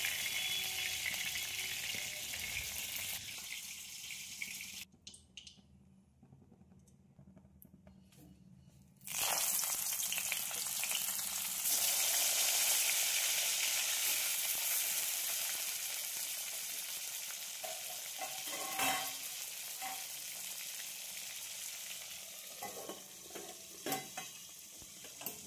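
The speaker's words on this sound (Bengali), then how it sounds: "কড়াইতে গরম তেল করে তেলের মধ্যে একে একে দিয়ে উল্টে পাল্টে ভালো করে ভেজে নিতে হবে" Hilsa fish paturi frying in hot oil in a pan, a loud continuous sizzle that cuts out briefly, then returns strongly with occasional scrapes and clatter from turning the pieces, close by and without speech.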